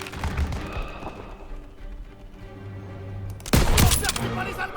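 Gunfire from shooting at enemy soldiers in Call of Duty WWII, a World War II game battle: a rumbling barrage of shots and booms that swells into a loud burst near the end, with chatter in the background.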